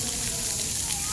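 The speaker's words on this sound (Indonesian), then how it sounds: "ini air mancur" Water fountain in Taman Bekapai, a city park in Balikpapan at night, splashing in a steady broadband hiss with no pauses, close and fairly loud.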